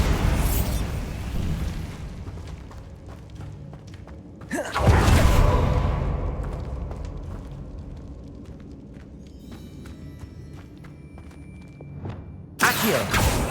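Bombarda blasting spells detonating in the Hogwarts Legacy video game: a heavy booming explosion with a rushing roar in the middle, a lingering rumble and scattered debris, then a second sharp blast at the very end.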